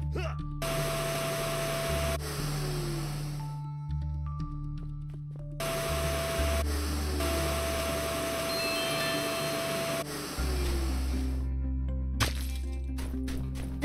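A vacuum tool in a video game sucks up green gas in long, loud whooshing bursts that stop and restart, layered over tonal game music and electronic cracks, with no voices.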